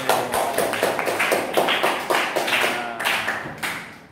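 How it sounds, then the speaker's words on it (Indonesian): A small classroom group claps after a student's presentation on global warming, giving a few uneven bursts of hand claps with short pauses between them. "Tepuk tangan lagi."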